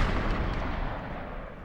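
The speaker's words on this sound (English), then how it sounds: "Her hand cannon raised, fires one round into the air." A single round fired from a hand cannon into the air outdoors over water: one heavy, booming blast that rolls out into a long, fading echo.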